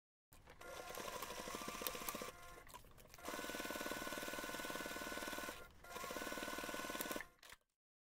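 A sewing machine bastes the edge of a fabric pocket with elastic attached, running in a long continuous whir. Two brief pauses break the stitching before it stops, and there is no talk.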